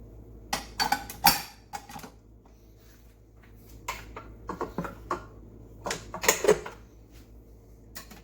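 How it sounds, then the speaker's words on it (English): Three eggs being beaten in a bowl for brownie batter, bursts of quick clinking whisk or fork strokes against the bowl, in two separate clusters with a quieter pause between. "We're gonna beat those."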